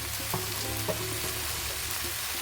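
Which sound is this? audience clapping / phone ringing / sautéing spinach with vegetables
sautéing spinach with vegetables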